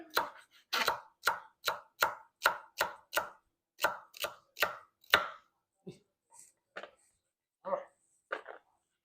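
Rapid knife chops against a cutting board with a dull blade, about a dozen evenly spaced thuds followed by a few sparser cuts and scrapes, close and loud in a quiet home kitchen.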